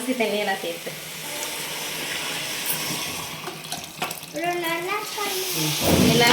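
Chicken biryani masala sizzles and is stirred in a pan, a loud continuous frying hiss with scraping, while voices talk over it in places.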